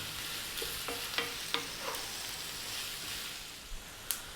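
Onions frying over above-medium heat while being kept moving, a steady soft sizzle broken by several sharp scrapes and taps of a utensil against the pan.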